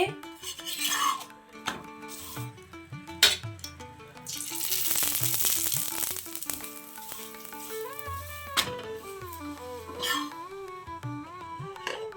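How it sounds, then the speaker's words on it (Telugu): A carrot chapati roasting with a light coat of oil on a hot griddle: a steady hiss and crackle that swells to a loud sizzle midway, with a few utensil clinks and a melodic tone running underneath. "పెనం అయితే కాగిందండి, చపాతీ అయితే వేస్తున్నాను. ఆయిల్ లైట్గా వేసి కాల్చుకుంటానండి."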